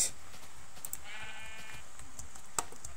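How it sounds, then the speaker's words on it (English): Sheep bleating in the Minecraft video game, a single short wavering bleat in the middle, fairly clear over a quiet game background with a couple of small clicks. "Sheep. Finally."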